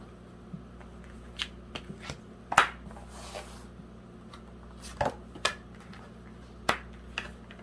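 Tarot cards are shuffled and handled in soft bursts, quick riffling flicks and light slaps scattered across a quiet room, close and fairly faint, with no one talking.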